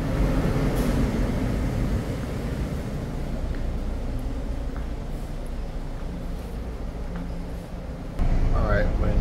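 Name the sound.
metro train ride interior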